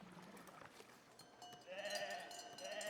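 Sheep bleat in the video game Foundation, a few short calls rising over a low, busy game ambience, moderately faint and alone without talk.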